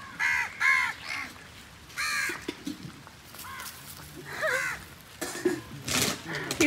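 Crows caw repeatedly at a beach where a fish is caught and cooked, loud harsh calls in several bursts, with faint clinking of dishes and a little background talk in between.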